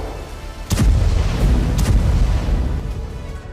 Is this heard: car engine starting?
no